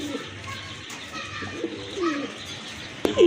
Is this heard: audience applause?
no